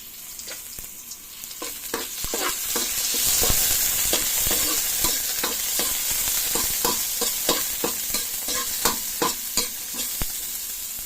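Garlic and onion sauté in a hot pan for a coconut mussel stew, a steady sizzle broken by repeated sharp scraping and clinking of a spoon stirring against the pan.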